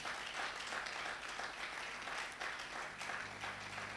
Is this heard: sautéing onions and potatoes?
no